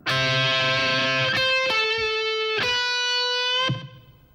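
A distorted electric guitar plays a short bluesy lick of a few sustained notes with quarter- to half-step bends, from an outro solo, ringing out loud and alone before fading.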